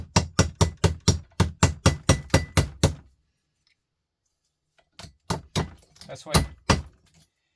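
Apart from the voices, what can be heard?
hammer hitting bulb to break it for scrap brass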